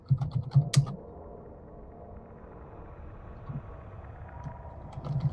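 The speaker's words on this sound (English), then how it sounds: "Amount of typing which is happening is what can only be described as disturbing." Rapid typing on a computer keyboard during a Dungeons & Dragons tabletop session, a brief burst of close key clicks at the start and again at the end, with a low steady hum in between.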